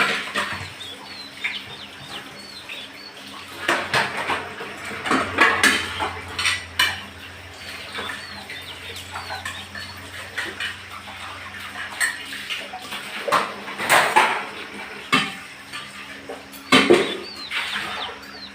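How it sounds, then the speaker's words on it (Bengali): A big load of dishes and utensils being washed by hand: water splashing while metal plates and cutlery clatter and clink in irregular bursts, close by, with faint birds in the background. "প্রচুর বাসন বাসন ধুতে মনে হচ্ছে আধ ঘন্টা এখানে লেগে যাবে"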